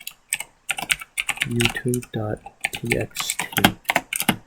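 Computer keyboard keys tapped to enter a file name, quick clusters of clicks running alongside a person talking throughout.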